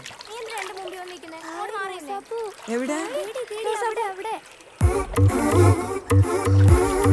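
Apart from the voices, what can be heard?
water splashing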